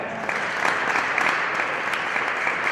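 A group of people claps together in a ballroom dance lecture, producing a dense, loud burst of applause-like clapping that holds steady with small rhythmic swells.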